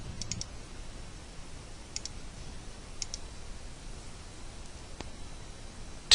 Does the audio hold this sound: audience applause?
no